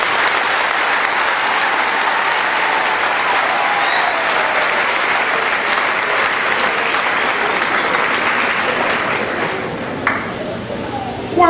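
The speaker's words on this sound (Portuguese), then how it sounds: "peço para me emprestarem as vossas mãos e aplaudir a vossa hospitalidade" Loud, sustained applause from a gospel concert audience fills the space, a dense wash of clapping holding steady for several seconds before thinning near the end.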